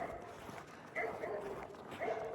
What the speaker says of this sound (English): Now the dogs start.